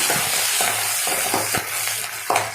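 Garlic sautéing in a pan for bitter gourd curry, a steady close sizzle broken by several rhythmic scraping stirs of a spoon against the pan, with no voices.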